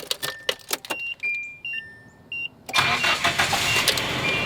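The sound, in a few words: 1990 Nissan D21 truck engine starting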